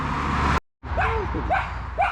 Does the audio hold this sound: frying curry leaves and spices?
no